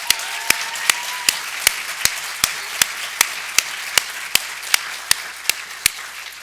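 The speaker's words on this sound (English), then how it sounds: "who deserve a huge round of applause" Sparse, slow clapping from a small audience at an academic forum honoring conference organizers, sharp separate claps at a steady rhythm against quiet room tone, with no voices.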